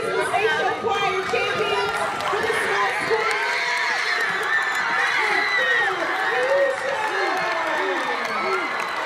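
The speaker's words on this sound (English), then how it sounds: "Now let's give a huge round of applause for the 2019 Inspiration Choir Champions." A crowd at a choir competition claps and cheers for the winning choir, with excited shouting and chatter layered over dense applause throughout.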